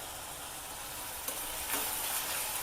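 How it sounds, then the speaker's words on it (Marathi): Chopped onion with a little salt sautéing in hot oil in a pan until pink: a steady, close, even sizzle with a few brief crackles, and no voices. "कांदा चांगला असा परतून घेणार आहोत। त्याला गुलाबी कलर येईपर्यंत आपण परतून घेऊया।"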